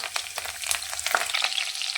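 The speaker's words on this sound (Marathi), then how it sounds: "तर याच्यामध्ये जिरे मोहरी टाकून घेऊया" Cumin and mustard seeds sizzle and crackle loudly in hot oil, with sharp popping bursts over a steady frying hiss and no voices.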